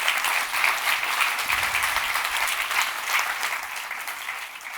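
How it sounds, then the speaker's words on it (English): Conference attendees at a JavaScript event clap together in a lively, sustained round, the even patter of many hands filling the room for nearly five seconds. "You deserve a round of applause."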